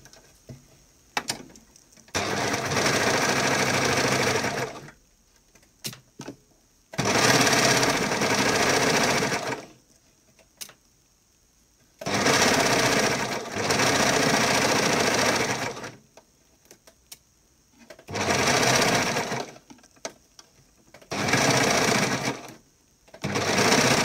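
A sewing machine stitches a swimsuit halter bikini top in several separate runs, each a steady close buzzing whir lasting a few seconds, with quiet pauses and faint clicks between runs.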